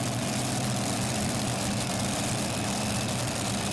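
Intertechna Lambada pulling tractor in the modified class at the 2015 European Tractor Pulling Championship in Brande, Denmark, its engine running in a steady loud low roar, continuous and droning.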